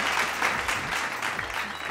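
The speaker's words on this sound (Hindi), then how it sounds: "एक बार जोरदार तालियों के साथ" An audience at a Kavi Sammelan poetry recital breaks into steady, dense applause, a sustained wash of clapping lasting the whole moment with no voices over it.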